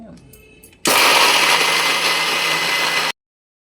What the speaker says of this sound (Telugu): మిక్సీ వేసి ఆడిస్తా అంటే